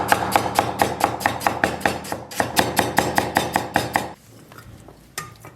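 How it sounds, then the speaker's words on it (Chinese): A knife chops ginger into thin slices on a cutting board, giving quick, steady, close knocks for about four seconds before a pause and a few scattered taps. "接下来咱们准备一块姜啊，给它切成小片"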